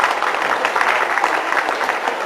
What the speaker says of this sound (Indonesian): sekali lagi silakan tepuk tangan